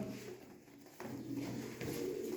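Tumbler pigeons coo softly nearby, low repeated calls over a faint ambient hum.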